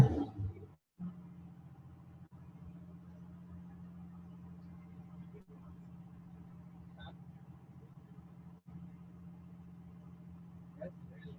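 A stationary car engine runs steadily at raised revs under load, a constant low hum held throughout with faint brief dropouts and occasional light clicks.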